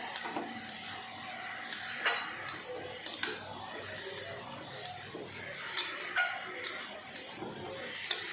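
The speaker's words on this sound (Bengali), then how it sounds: "এখন নেড়ে চেড়ে ভালো করে আবারও মিশিয়ে নেব।" A spoon scrapes and clinks against a pan as cabbage cooked with fish head is stirred and mixed, with soft sizzling underneath and light taps recurring irregularly.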